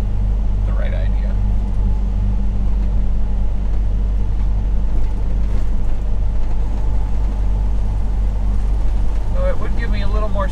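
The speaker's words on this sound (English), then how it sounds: "it would give me a little more stopping power with the engine brakes" A heavy truck's engine brake drones in a lower gear, a steady loud low rumble filling the whole stretch with faint higher squeaks near the start and end.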